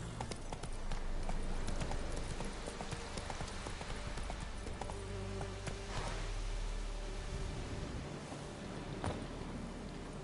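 Horse hooves galloping in The Witcher 3: Wild Hunt, a steady rapid clip-clop close by with a low rumbling background that runs through the whole stretch.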